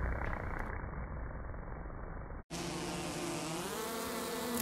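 Worker honey bees buzz steadily at an observation window hive in early spring, a close, continuous insect drone that shifts in tone partway through as another worker comes near.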